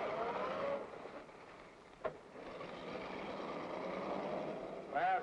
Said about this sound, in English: They're driving away.